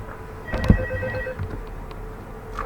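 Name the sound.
telephone ringing in the video game Five Nights at Freddy's 2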